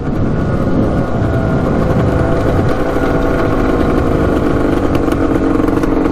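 A Yamaha Tri-Z or Arctic Cat 250 4x4 ATV engine runs steadily and close by while shifting up through the gears. The drone stays loud and continuous, with no talk.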